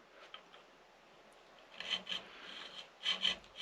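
A file rasps through a string slot in a mandola nut, starting with faint strokes and then giving short, close, scratchy bursts in pairs.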